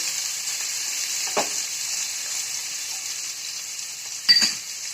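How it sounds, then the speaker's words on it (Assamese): Finely chopped onions fry in a pan for Assamese-style mashed eggplant, a steady close sizzle running throughout with two brief scraping stirs, one early and one near the end. "পিঁয়াজখিনি ঢালি দিয়াৰ পাছত পিঁয়াজখিনি অলপ ইলুটি কৰি লৰাই দিলোঁ।"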